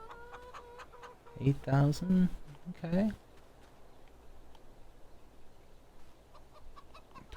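Chickens cluck softly in the background on a Farming Simulator 22 farm, faint intermittent calls under a voice speaking briefly.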